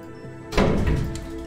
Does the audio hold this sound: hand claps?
no